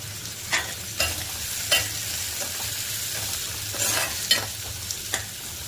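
Onion and tomato stirred and sautéed in a pan for a rustic village-style curry, with a steady sizzle broken by several sharp scraping strokes of the spoon, close and alone without talk.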